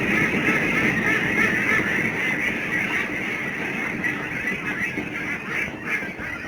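A dense flock of ducks on a combined duck and catfish pond farm, honking and quacking together in a loud, unbroken chorus close by.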